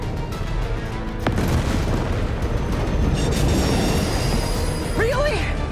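A train derails in the Marvel's Spider-Man 2 video game with a loud, sustained rumbling crash, a sharp crack about a second in, and dense game effects.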